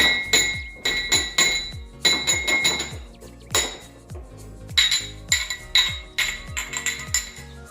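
Two drinking glasses clinking together over and over in quick bright chimes, close and loud, with a ringing tone after each tap and no talking.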